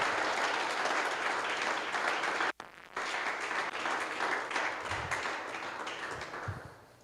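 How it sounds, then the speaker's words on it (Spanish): A church congregation applauding, with steady dense clapping throughout that breaks off for a moment midway, then resumes and slowly tapers. "Denle un aplauso al Señor, por favor."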